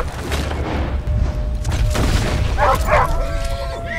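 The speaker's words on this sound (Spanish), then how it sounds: "No me acordaba que es tierra de lobos" Wolves attack in the video game Red Dead Redemption 2: dense, loud game audio with booming rumble, snarls and yelps layered over it, plus a short whining cry near the end.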